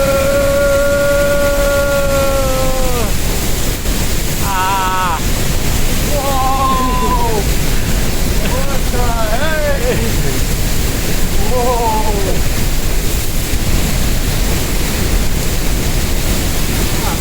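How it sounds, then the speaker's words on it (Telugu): Diablo waterfall in Ecuador roars as a loud, continuous broadband rush close by, with wind buffeting the microphone and people talking and exclaiming over it. "ఇది బెస్ట్ వాటర్ ఫాల్స్."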